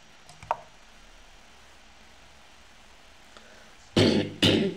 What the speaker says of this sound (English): Sorry guys, I'm coughing a lot.